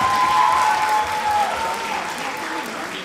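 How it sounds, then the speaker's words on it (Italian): A school audience applauds a fourth-grade class at a Christmas show at the Galileo Galilei school in Erba. The steady clapping fills the whole clip, with a voice and a brief tone over it. "Un applauso per la quarta B."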